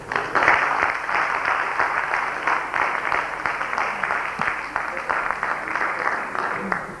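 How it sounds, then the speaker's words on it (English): Audience applause after a speech at a medical curriculum reform event: steady, sustained clapping from a crowd, evenly dense throughout, with a voice faintly audible underneath. "We applaud you"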